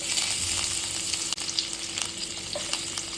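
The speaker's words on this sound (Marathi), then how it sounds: "प्रथम आपण टाकूया जिरे, खडे मसाले, तमालपत्र, आलं लसूण पेस्ट," Cumin, whole spices, bay leaf and ginger garlic paste sizzle and fry in hot oil in a pan, a steady close crackling hiss with light stirring scrapes.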